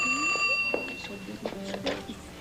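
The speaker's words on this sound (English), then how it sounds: "That's the phone we're not going to answer." A telephone rings in a 1981 television soap opera scene, a steady bell-like trill running beneath overlapping dialogue from people talking.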